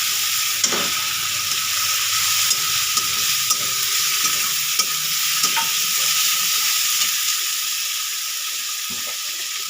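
Prawns sizzle in a pan of frying bitter gourd curry, a steady close hiss of hot oil with scattered soft stirring clicks.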